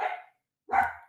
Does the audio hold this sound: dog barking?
yes